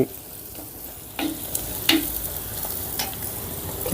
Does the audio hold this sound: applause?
no